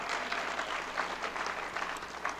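An audience at a school public reading claps steadily, a continuous moderate wash of many hands with no voices over it.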